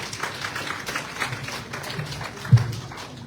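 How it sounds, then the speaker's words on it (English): An audience in Port Gibson, Mississippi gives a round of applause at an evening gathering with visiting monks, moderate steady clapping with a single louder thump partway through. "So give yourselves a round of applause"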